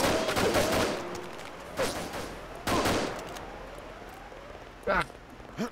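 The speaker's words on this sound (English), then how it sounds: "Could you stop shooting me?" Gunfire from Deus Ex, a few separate loud shots spaced irregularly, each followed by short echoing decay, with brief clicking bursts near the end and no talk over them.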